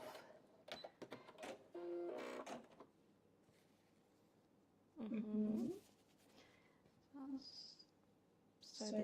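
A sewing machine stitching fabric, heard in short whirring bursts separated by pauses, fairly quiet and close, with faint handling noises between runs.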